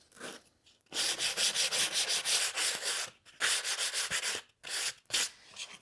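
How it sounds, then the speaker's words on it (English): Sandpaper rubs along the edge of a wooden gift box to soften it, in several bursts of steady back-and-forth scratching with short pauses between them, close and clear with no talking. "a little edge break with some sandpaper should be more than enough to make that soften up quite a bit"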